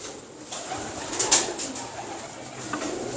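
Teddy pigeons coo softly in a loft, low murmuring calls over a faint rustling background, with a brief sharp chirp standing out near the middle.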